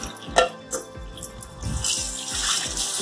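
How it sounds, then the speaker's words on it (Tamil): Fish being rinsed in water and drained through a strainer, with splashing, sloshing and trickling water, a few clinks of a vessel early on, then a steadier pouring flow. "தண்ணியில் அப்படியே போட்டு அலசிட்டு வடிகட்டி போட்டு வடிக்கிறேன்"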